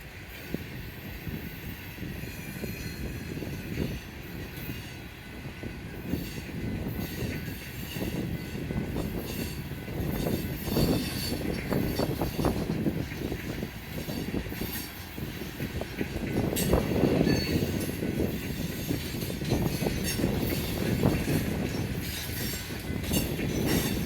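A Conrail freight train including a lumber car and a reefer rolls past steadily, with continuous rumbling wheels, rhythmic clickety-clack over rail joints and occasional squeals, fairly close and with no talking.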